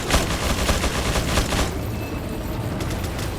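Rapid bursts of gunfire in Resident Evil 4 (2005), crackling loudly and continuously for the first second and a half before easing into quieter, scattered shots.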